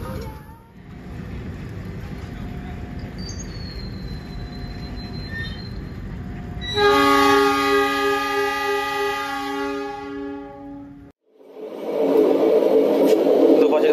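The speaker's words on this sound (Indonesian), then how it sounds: "jadi kenyang sama suara klakson puwong" Rolling along at speed, the Mutiara Selatan passenger train sounds a long, loud multi-tone horn blast over the steady rumble of its wheels, then rushing clatter follows after a brief dip.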